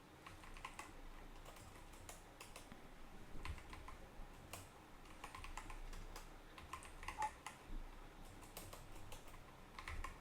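Steady typing on a computer keyboard while code is written, with continuous soft key clicks and occasional louder taps. Close and quiet, with no voices.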